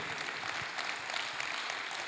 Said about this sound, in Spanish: Dale un aplauso al que vive, por favor.